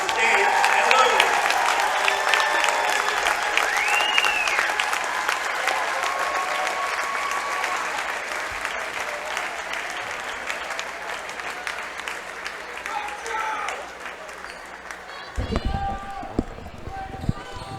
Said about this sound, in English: Let's have a huge round of applause for Dave and Louie.